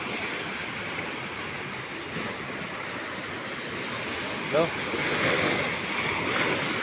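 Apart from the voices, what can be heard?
calm sea waves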